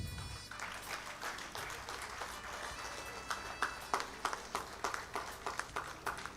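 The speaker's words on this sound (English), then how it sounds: "please keep clapping" Audience applause at a silver jubilee award ceremony, a faint steady patter of many hands clapping, with a few sharper claps standing out toward the end and a soft voice nearby.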